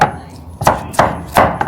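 Food is chopped in a hand-turned chopper, giving four sharp, evenly spaced chopping knocks heard up close against a quiet background.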